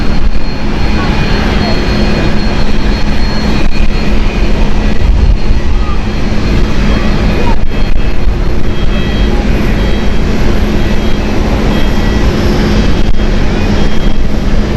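A Vueling jet airliner departing Amsterdam Schiphol Airport gives a loud, continuous engine roar that fills the whole stretch, with a voice talking faintly underneath.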